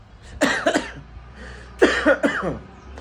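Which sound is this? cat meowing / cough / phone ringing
cough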